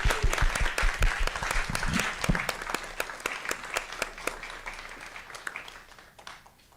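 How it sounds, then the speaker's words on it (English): Audience applause at a school district governing board meeting, a steady burst of clapping that starts loud and gradually thins and fades out over several seconds. "Give them a round of applause."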